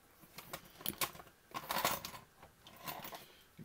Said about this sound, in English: Excuse the rustling of the tools in the background.